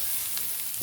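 Fish roe fries in a pan with a steady, close hiss of sizzling oil and a few faint stirring ticks, all within a brief moment.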